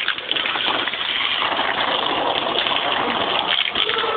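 Steady, rushing spray of water hitting and splashing continuously, loud and close, with no pause throughout.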